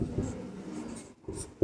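Chalk or marker taps and scratches across a classroom board in short, close strokes with a brief pause between them, fairly quiet and without speech.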